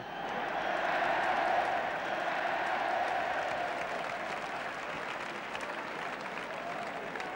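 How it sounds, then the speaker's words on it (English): A football crowd at a Spurs versus Nottingham Forest match gives a sustained round of applause, a dense, steady wash of clapping and crowd noise that holds at an even level before easing slightly. "is getting a tremendous round of applause from the crowd here"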